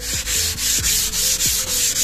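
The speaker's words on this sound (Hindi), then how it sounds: "320 नंबर का रेगमाल लगाएंगे पूरे अच्छे तरीके से सभी पर" Close, steady hand sanding of a wood veneer panel with 320-grit sandpaper, a dry rasping rub in even back-and-forth strokes about three per second, with no talking.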